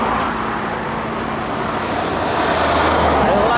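A Mitsubishi Fuso bus passes a heavily loaded truck on a downhill curve through the Baluran forest, a steady roar of engines and road noise with rushing wind, the vehicles close by and continuous.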